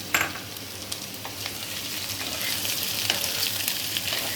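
Chilli paneer with capsicum and green chilies sizzles in a hot pan as it is tossed, a steady close frying hiss with scraping stir sounds throughout, no voices.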